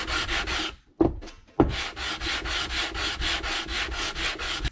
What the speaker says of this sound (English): So I'm just going to do a little bit of sanding, clean it up